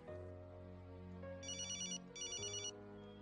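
A mobile phone ringtone plays close by in a hospital scene, a steady melodic tone joined by two short bursts of bright, rapidly repeating high chimes. No talk is heard.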